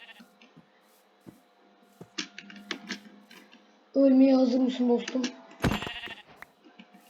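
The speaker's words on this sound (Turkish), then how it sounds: "Aa koyunmuş. Buraya gel koyun." Blocky sheep in Minecraft bleat in short bursts amid game sounds, with one louder, nearer bleat mid-clip, while a person talks over the gameplay.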